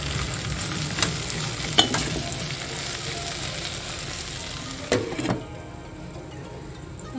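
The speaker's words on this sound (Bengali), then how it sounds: "ওদিকে পটলটা ভাজা হচ্ছে" Sliced pointed gourd (potol) fries in a pan with salt, giving a steady close sizzle broken by a few sharp stirring scrapes and clinks.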